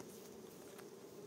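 Honey bees at an opened hive during a honey harvest make a steady, faint, continuous buzz that holds unbroken throughout.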